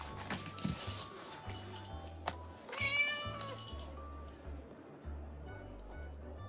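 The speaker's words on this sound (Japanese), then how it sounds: "迷子の猫かな。" A lost cat lets out a single clear meow partway through, fairly close against a quiet room with faint low background noise.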